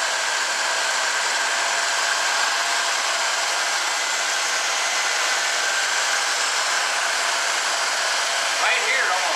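A steady, broadband hiss runs unbroken and fairly loud throughout, like air being sucked through a vacuum leak on the running engine of a 1974 Chevrolet Blazer.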